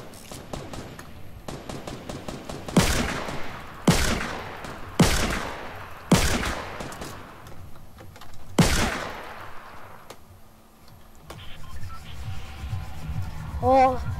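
Gunfire from a gun in Fortnite rings out in loud, sharp blasts, several spaced heavy shots over a rapid rattling stream, then a brief quieter stretch with other game sounds at the end.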